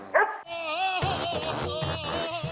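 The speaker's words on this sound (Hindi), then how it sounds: "अभी भी भौंका ही जा रहा है" A dog named Sheru keeps barking in a residential society, several sharp barks in quick succession, loud and close, with a harmonic yelping quality running through the stretch.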